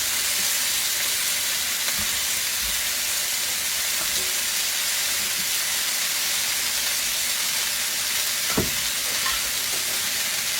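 Pound of washed, patted-dry button mushrooms sautéing in a pan with butter, a steady broad sizzle and hiss running throughout with occasional small pops and utensil clicks, close and continuous.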